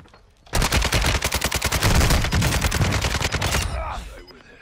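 Rapid automatic gunfire in Warzone 2.0, a long sustained burst of dense, evenly spaced shots, loud and close, tapering off into quieter game sounds at the end.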